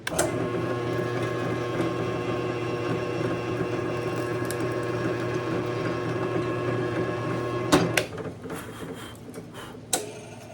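A benchtop machine drones steadily under a constant mechanical hum while drilling holes in a Strat-style guitar pickguard, then winds down near the end, followed by a few sharp clicks and knocks.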